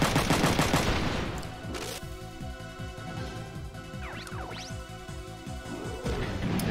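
Gunfire aimed at Emma in the PlayStation mech strategy game Front Mission 3: a loud crash, then a long run of rapid, evenly spaced machine-gun shots over droning game music, ending in another heavy impact.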